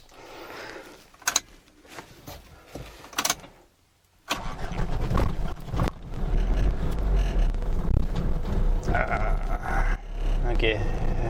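A Ford Ranger's engine cranks briefly, then catches and settles into a loud, steady idle at close range, with some scattered handling noises before the start.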